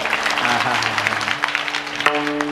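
An audience at a Marathi kirtan claps steadily, a dense layer of many hands under someone speaking, with a sustained harmonium-like tone running through it.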